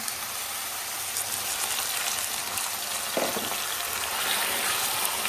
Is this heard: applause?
no